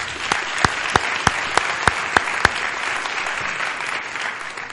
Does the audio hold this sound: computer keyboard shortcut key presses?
no